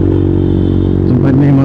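Motorcycle riding along a dark city road at night, a steady loud engine drone with wind rumble, close to the rider, some clatter near the end.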